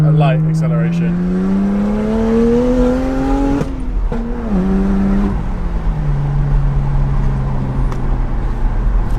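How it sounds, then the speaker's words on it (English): Straight-piped BMW 135i coupe pulling through a light acceleration in second gear, its loud engine note rising steadily then dropping after a shift, continuous and close throughout. "I'm just going to pop it into second gear and do a light acceleration"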